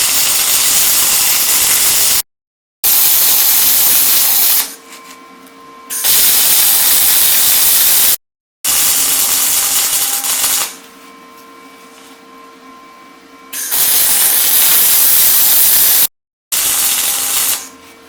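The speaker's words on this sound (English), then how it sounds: "welding over the slag the second and third pass" Arc welding passes laid over slag on a steel joint, three back to back without cleaning, give a loud, steady crackling hiss in long bursts, each broken by brief silent gaps and quieter pauses between passes.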